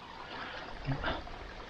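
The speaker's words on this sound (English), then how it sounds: "Found this nice little babbling brook here, rolling down the side of the mountain." A small babbling brook rolling down a mountainside beside a campground road, a steady close rush and trickle of water with a brief louder gurgle partway through.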